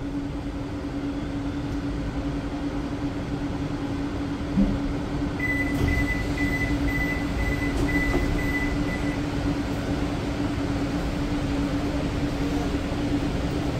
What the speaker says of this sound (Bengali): চলে আসলো আমাদের first stoppage Dumdum cantonment metro station.